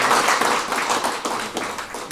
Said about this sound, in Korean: 예, 같이 박수 부탁드리겠습니다